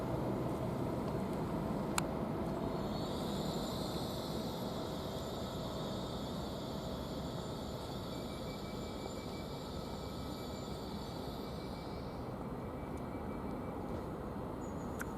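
A train departs Didcot Parkway railway station with a low, steady rumble and a sustained high whine that swells and then fades, heard from the platform with a sharp click near the start.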